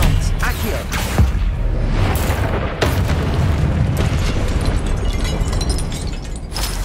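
Spell explosions from the Confringo fire spell in a Harry Potter video game, a loud continuous rumble of booming blasts with sharp bursts standing out, dense and close with no pauses.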